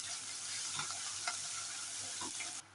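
A whole bulb's worth of crushed garlic sautéing in a pan and being stirred for a fish dish, an even sizzle with soft scraping strokes, close and without talk, cutting off abruptly at the end.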